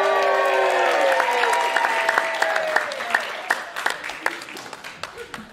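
Comedy audience at an Edinburgh festival show claps for comedian Marcel Lucont, a full burst of applause with a sustained tone underneath that thins into scattered individual claps toward the end.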